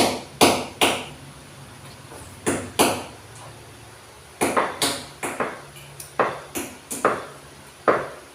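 Pounding hammer blows from nearby construction work, sharp metallic strikes arriving singly and in quick pairs or triplets with short pauses, loud and close, with no voices.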